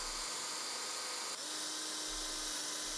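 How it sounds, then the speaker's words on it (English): A drill whines steadily while pre-drilling holes in wooden beading for a small garage built for a LUBA 2 robot lawnmower, a continuous high-pitched hum that shifts pitch slightly midway, quiet and alone. "I'm just going to pre-drill some holes."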